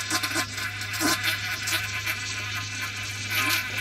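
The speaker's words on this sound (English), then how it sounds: "it's supposed to be a macerator pump" An RV toilet's macerator pump runs after a flush, giving a steady buzzing, whining hum with a constant low drone throughout, close and moderately loud with no voices.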